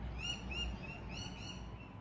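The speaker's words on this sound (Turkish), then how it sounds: "İşte Sydney'de kuşlar böyle ötüyor." Repeated harsh, squawking calls of Sydney birds in short bursts, fairly close, over a steady low outdoor hum.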